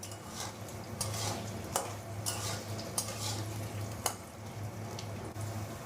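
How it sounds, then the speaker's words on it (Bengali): Potatoes fry in a pan over a gas flame with a soft sizzle, while a spatula scrapes and knocks against the pan at intervals, quiet and close, with a low hum underneath. "আলুটা এবার ভেজে নেব।"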